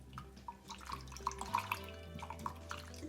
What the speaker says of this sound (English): Just put the water in there.